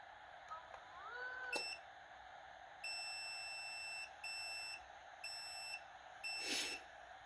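An automatic mosque sound system's buzzer mode sounds four shrill, steady beeps of about a second each, separated by short pauses, after a brief electronic tone.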